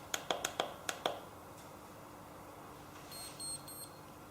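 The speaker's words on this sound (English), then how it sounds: "we hear the beeps initially telling me that we have made contact and we're ready to begin" A quick run of six sharp electronic beeps, then a few softer high tones in a quiet room.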